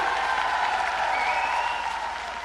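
A large crowd claps steadily at a political election rally in Rajasthan, a dense, even wash of applause that holds loud throughout and eases slightly near the end, with no voice over it.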